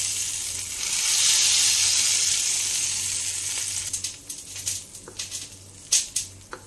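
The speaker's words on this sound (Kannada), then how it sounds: "ಸ್ವಲ್ಪ ಕರಿಬೇವು, ಸ್ವಲ್ಪ ಮೆಣಸಿನಕಾಯಿನ ಹಾಕೋತಾ ಇದ್ದೀನಿ. ಚೆನ್ನಾಗಿದು ಎಣ್ಣೆಯಲ್ಲಿ ಮಿಕ್ಸ್ ಆಗಬೇಕು." Curry leaves and green chillies hit hot oil for a tempering over coconut chutney, a loud bright sizzle that swells then settles, followed by sharp crackles and pops of spattering toward the end.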